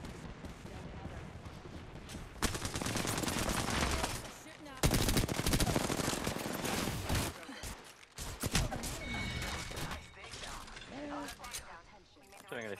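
Dense gunfire in Apex Legends ranked play: long, loud stretches of rapid shooting broken by short pauses, with mechanical clatter and in-game voice lines over it.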